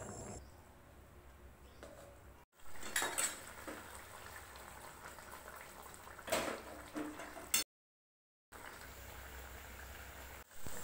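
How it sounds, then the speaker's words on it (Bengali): A ground mustard and poppy seed paste is gently stirred into a bata fish curry, with soft spoon clinks and scrapes against the pot over a faint simmer, and a brief silent gap. "আস্তে আস্তে একটু নাড়াচাড়া করে মিশিয়ে দেব।"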